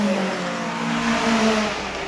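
Porsche 924 race car racing in a vintage sports car event for cars over 2.0 litres, its engine droning with a steady buzzing note that swells briefly as it passes close by, over broad track noise.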